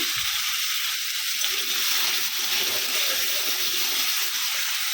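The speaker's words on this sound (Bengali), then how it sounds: "এখন একটু ভালো করে একটু ভেজে নেব।" Potatoes, tomatoes and a green chilli fry in a pan with a steady, close hiss and sizzle that carries on without a break.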